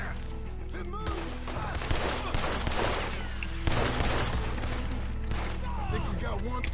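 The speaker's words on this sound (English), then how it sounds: "I can hardly see what I'm shooting at." Gunfire in a Red Dead Redemption 2 shootout: a dense, continuous fusillade of overlapping shots with sharp bursts near two and four seconds, over steady low game ambience and occasional voices.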